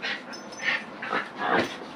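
Dogs playing in a house during an attic conversion, with bursts of whines, yips and panting that come and go at a moderate distance, no talk over them.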